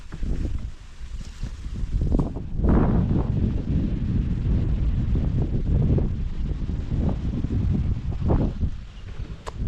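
Cold wind blowing outdoors, a loud, steady rushing and buffeting across the whole clip, with gusts that swell and fade and heavy rumble on the microphone, no talk.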